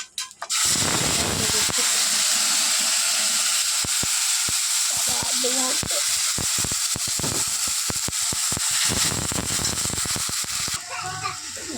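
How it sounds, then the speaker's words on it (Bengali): A spice mixture frying loudly in a hot pan, a dense continuous hiss and sizzle with scattered clacks of stirring, a brief quieter moment near the end. "দেখো মশলা কষাচ্ছি"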